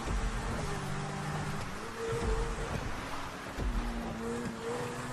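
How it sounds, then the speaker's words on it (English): A Grotti Cheetah sports car in GTA, fully upgraded, drives off-road with a continuous engine drone and shifting pitch under heavy wind-like rushing noise, with occasional thumps from the terrain. "The Cheetah is handling well in the off-road driving test."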